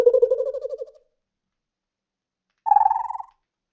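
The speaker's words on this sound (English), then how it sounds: "That's just the rubber treat holder. If I paste it here and then pitch it back up." Rubber dog treat holder producing a fluttering, pitched-up tone in two separate bursts, the first about a second long and the second shorter and higher, each with a warbling, rapidly pulsing texture, close and isolated against silence.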